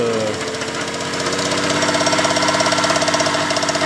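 A Piaggio Ciao 50 moped, brought out of a barn after ten years unused, runs close by with a loud, rapid, rattly two-stroke putter that rises a little as it is revved gently, steady and without any talk.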